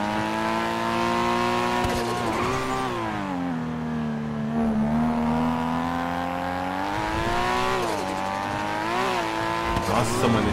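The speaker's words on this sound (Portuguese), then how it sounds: "esse carro anda demais" A new Nissan Skyline R34 sports car in GTA roleplay revs hard and drives fast, its engine pitch rising and falling with gear changes and brief tire squeals, loud and close, with some voices faintly underneath.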